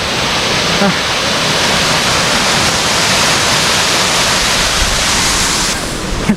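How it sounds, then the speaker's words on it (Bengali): A mountain waterfall roars with a loud, steady rush of falling water that fills the whole scene without a break. "দেখ এই ঝর্ণাটা দেখার জন্য এখানে এসছি"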